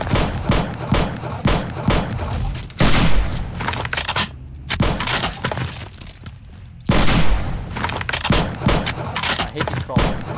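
Rapid bursts of gunfire from the zombie survival video game 7 Days to Die, dense fusillades of close, loud shots with brief pauses between volleys, mixed with a player's excited voice.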